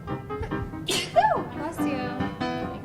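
A single sharp sneeze from a woman bursts out amid chatty voices, close and loud, with people talking and laughing around it.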